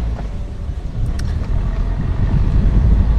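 A Morgan 4/4 car pulls away for its first metres, low engine rumble building steadily with a light click or two early on, close and fairly subdued.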